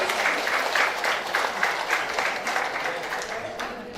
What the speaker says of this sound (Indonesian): tepuk tangan ibu semuanya buat ibu dokter.